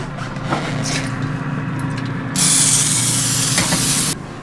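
A short burst of cooking spray hisses loudly from an aerosol can for under two seconds after some quiet handling noise.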